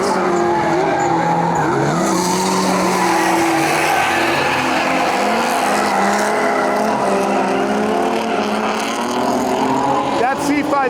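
Five cars drift back to back at a grassroots event in the Midwest, a C5 among them, with loud tire squeal and screeching skids wavering over roaring engines that rise and fall continuously and stay close.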